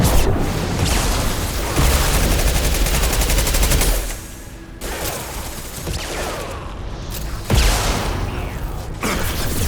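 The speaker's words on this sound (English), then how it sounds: "Firing concussive shots!" Concussive shot ability fired repeatedly in the video game Mass Effect 2 on Insanity difficulty, loud dense bursts of blasts and gunfire crackle with heavy booms around the midpoint and near the end, amid constant combat noise.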